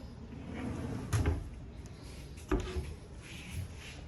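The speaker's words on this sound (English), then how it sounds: "And another drawer at the bottom." A hotel room dresser drawer is opened and closed, giving two soft wooden slides and a bump in a quiet room.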